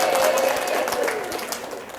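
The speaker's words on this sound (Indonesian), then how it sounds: "Tepuk tangan juga untuk kalian semua ya." Students clap together at the close of a university lecture, a steady wash of applause from a room full of people that softens slightly toward the end, with a voice faintly mixed in.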